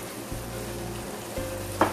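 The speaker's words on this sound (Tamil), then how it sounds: "இப்ப நல்லா கொதிச்சு வந்திருக்கு பாருங்க" Chicken curry bubbling and sizzling in a pan, a steady close fry hiss with soft low bubbling and a brief sharper sputter near the end.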